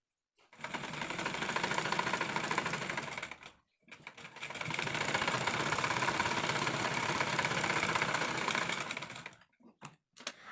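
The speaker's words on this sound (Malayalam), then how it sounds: "ഒരറ്റം മുതൽ മറ്റേ അറ്റം വരെ സ്റ്റിച്ച് ചെയ്ത് കൊടുക്കുക കേട്ടോ." A sewing machine stitching along the side slit of cigarette-style trousers, two long loud bursts of fast, even whirring with a short pause between them, close up and with no talk.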